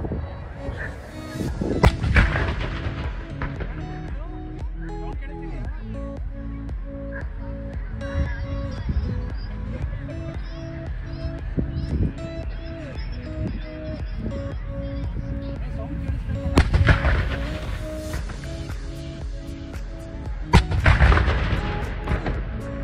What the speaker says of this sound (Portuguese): É, 21 tiros de canhão.